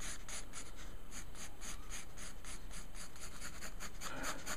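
A pencil sketches on paper in quick, rhythmic back-and-forth strokes, close and quiet over a faint steady background hiss, while drawing heart-shaped tattoo designs in a journal; no one speaks.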